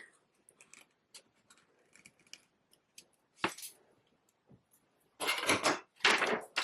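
Scissors cutting fabric along a waistcoat dart line, soft scattered snips at first, then two louder crunching cuts close to the microphone near the end, with no voices.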